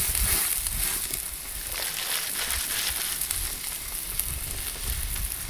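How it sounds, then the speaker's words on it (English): A thick New York strip steak sizzles and crackles on a Weber Q griddle, a close, steady frying hiss with no voices. "And on goes our lovely steak."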